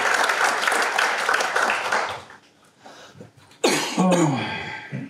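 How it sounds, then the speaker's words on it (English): Applause from a business summit audience, loud for about two seconds before fading out, followed by a sudden close cough or throat-clearing sound. "Give them applause."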